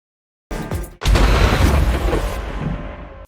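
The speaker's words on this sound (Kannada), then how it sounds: "ಇದೀಗ ಬಾಂಬ್ ದಾಳಿ ಮೂಲಕ ನರಕ ದರ್ಶನ ನೀಡಿದ್ದೇವೆ ಅಂತ ಹೇಳಿ ಟ್ರಂಪ್ ಹೇಳಿದ್ದಾರೆ." Explosions from a bombing attack: a brief thud, then a heavy booming blast with a rolling rumble that fades out over about two seconds, loud with no speech.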